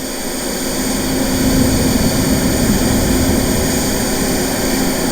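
Synthesized turbine engine from the TURBINE engine plugin: a loud, steady jet-like roar with a high whine. It holds constant throughout with no voices.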